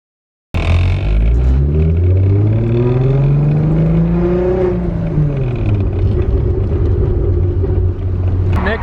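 A VW MK2 GTI VR6 24V starts up and drives off, the engine note rising through a long loud pull, dropping at a shift and climbing again, close and continuous with no talking.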